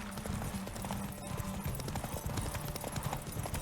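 Roach the horse gallops in The Witcher 3, a fast, continuous run of hoofbeats pounding close and loud against a busy, noisy background.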